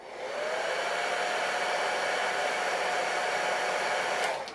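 A hair dryer blows on a man's hair while it is being set, giving a steady, loud whooshing roar that holds for several seconds before cutting off, with no talking.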